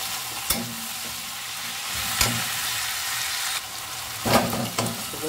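Onions and green chillies sizzle and fry in a pan for an egg curry, with a ladle stirring through them in occasional scraping strokes over a steady, close crackle.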